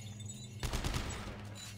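Video game weapon fire in Dead Space 3 co-op sets off one sudden loud burst of shots that rattles and decays over about a second, after a brief stretch of quieter background hum.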